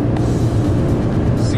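Inside a 1997 Mercedes-Benz C200 W202, the engine holds a constant loud hum near 3000 rpm while someone speaks over the drone.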